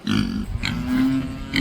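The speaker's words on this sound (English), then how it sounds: "Oh, you hear the cow over there." A cow moos in a low, drawn-out call on a Maine homestead farm, close and clear, with a shorter lowing sound before it.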